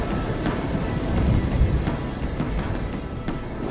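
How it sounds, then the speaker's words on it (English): Gale-force wind roaring over a stormy sea, with waves surging and crashing in a steady, dense wash and brief gusting swells, heard alone without voices. "A gale howled over the seas, waves swelled before a stranger ship."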